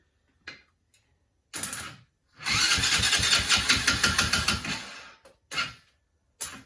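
A small Chinese 110cc ATV engine cranks and tries to start, with short separate bursts and then a longer rhythmic chugging crank that stops, followed by brief further cranks, loud and close.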